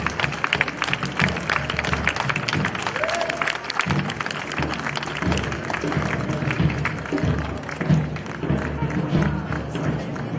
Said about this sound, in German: Geben Sie einen kräftigen Applaus für diese Männer, die bei die Schwerstarbeit leisten